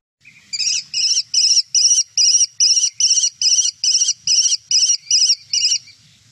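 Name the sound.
American kestrel call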